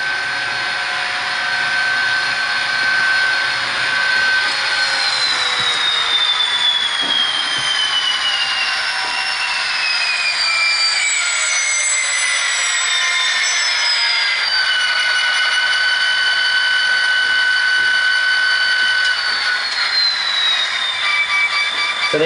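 A V/Line G512 HO scale model locomotive with DCC sound plays a continuous engine drone with sustained high squealing and whistling tones that rise and shift, steady and loud, with no talking.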